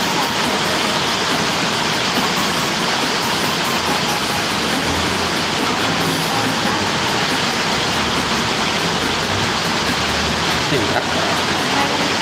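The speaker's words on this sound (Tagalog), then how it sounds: "Hindi tayo magkarinigan ngayon, malakas ang ulan." Heavy rain pours down in a dense, loud, unbroken roar that stays constant from start to finish.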